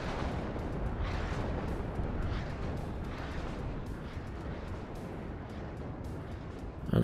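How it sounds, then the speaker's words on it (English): Sustained artillery bombardment in the WARNO strategy game, with a dense, continuous rumble of distant shell impacts and blasts rolling on steadily without pause. "currently that area is being bombarded by artillery"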